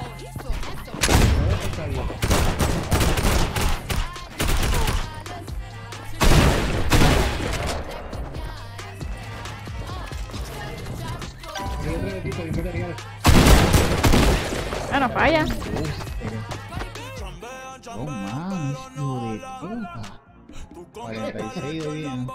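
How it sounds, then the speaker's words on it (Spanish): Bursts of rapid gunfire in Fortnite erupt repeatedly over a steady beat with rap vocals, loud volleys clustering between quieter musical passages. "no falla ninguno de los tiros"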